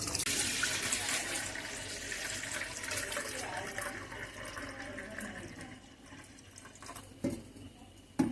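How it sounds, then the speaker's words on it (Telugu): Water pours steadily into a bowl of ration rice soaking for dosa batter, a continuous splashing rush that tapers off toward the end, with a couple of small knocks. "ఇందులో వాటర్ పోసుకుందామండి"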